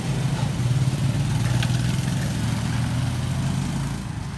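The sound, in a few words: motorcycle engine idling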